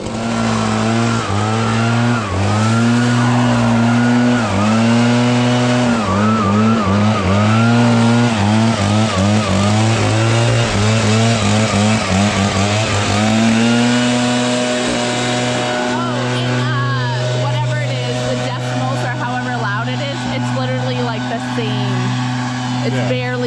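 A brand-new gas backpack leaf blower engine, ProRun PBB3000 or Echo PB9010, revs repeatedly with rising and falling whine, then settles into a steady high drone, loud and close, with voices talking at times.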